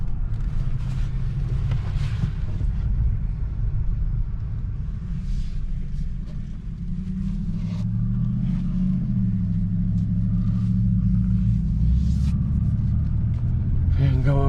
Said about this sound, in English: No, I'm just doing a U-turn.